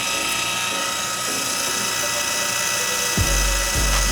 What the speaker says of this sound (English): Now we're gonna actually start polishing here.